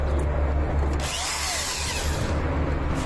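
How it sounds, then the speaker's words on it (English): A power drill runs from an inverter on stored battery power, whirring continuously nearby, its motor pitch dipping briefly in the middle before steadying again, with no voices. "I connect this electric drill to the inverter when the steam turbine is off"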